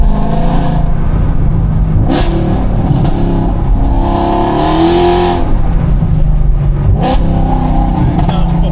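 A Mercedes C63 AMG engine revs and accelerates in a loud, throaty roar with rising and falling pitch and sharp bursts, heard from close by while people talk over it.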